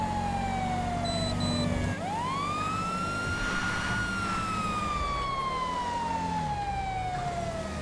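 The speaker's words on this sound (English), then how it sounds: "once I get a little bit closer, I'm going to go ahead and cut my siren off" A loud police siren in the video game LSPDFR wails in long sweeping rises and falls over a low engine rumble, close and continuous.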